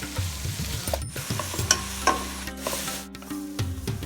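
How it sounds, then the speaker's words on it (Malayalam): Four medium onions sliced lengthwise with a little salt sautéing in coconut oil, a close crackling sizzle broken by a few scraping stirs and spoon knocks. "ഇതിലേക്ക് മീഡിയം വലിപ്പമുള്ള 4 സവാള നീളത്തിലരിഞ്ഞത്, ഒരല്പം ഉപ്പും ചേർത്തിട്ട് നല്ലപോലെ ഒന്ന് വഴറ്റാം"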